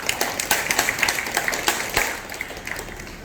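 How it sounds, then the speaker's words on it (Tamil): An audience at an International Yoga Day event held by YSS and Gitanjali Hospital in Trichy claps steadily, with dense, sustained applause that fades slightly toward the end. "அவர்களுக்கு அனைவரும் கரகோஷம் எழுப்பி நன்றியை தெரிவித்துக் கொள்வோம்"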